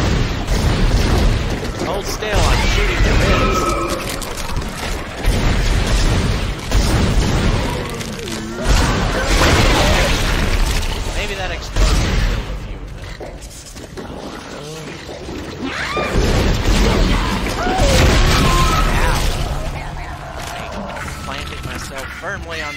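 Weapon fire and heavy explosions in the sci-fi horror game Dead Space come as loud booming bursts and rumbling impacts that fill the clip. Voices talk over the action throughout.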